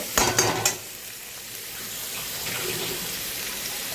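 Onions frying in a pan to a reddish brown, opening with a few sharp clattering stirs, then a steady close sizzle that keeps going alone.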